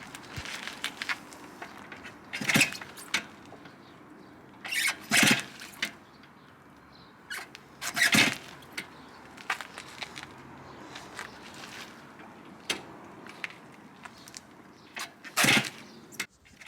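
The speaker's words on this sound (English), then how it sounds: "After multiple kicks, it still wouldn't start." Someone repeatedly kicks the kickstarter of a 45-year-old Suzuki PV50 fitted with an RM80 engine; about half a dozen sharp, scraping mechanical bursts come at irregular intervals with faint clicks and rustling between them, and the engine never catches.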